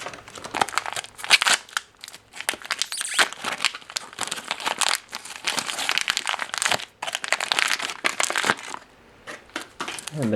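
A paper packet of RAF Mark 9 emergency flying ration tablets from 2002 is torn and crinkled open in a long run of close, irregular rustling and crunching, with some speech mixed in.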